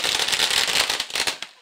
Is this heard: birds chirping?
no